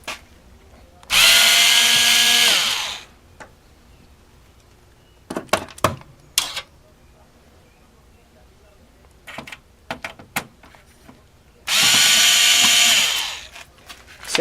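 A power screwdriver removes screws from a computer motherboard in two loud, close whirring bursts of about two seconds each, separated by quieter clicks and handling noises.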